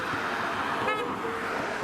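A car horn gives one short honk close by, standing out over a steady wash of roadside traffic noise.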